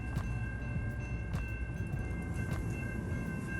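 An exo commuter train bound for Vaudreuil near Montreal rolls along the rails with a steady low rumble, faint periodic clicks of wheels over joints and a sustained tonal hum, heard from on board.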